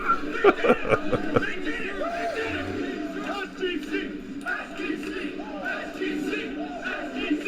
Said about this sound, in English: The whole crowd is doing a chant happy about this game.